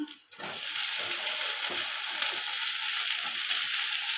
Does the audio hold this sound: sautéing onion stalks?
yes